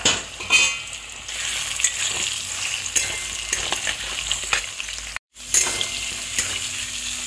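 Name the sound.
frying potatoes and soybean chunks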